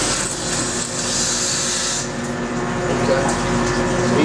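Lime feed mixers at a water treatment plant's lime and carbon feed equipment run with a steady, loud mechanical hum and whir. A constant tone holds throughout, with no talk over it.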